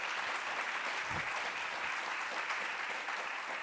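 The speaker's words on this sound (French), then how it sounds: "Bien sûr, vous pouvez les applaudir." Audience applause after a presentation on reusing building structure and envelope in construction; continuous, dense clapping from a seated crowd, fairly close and even, with a faint voice briefly underneath.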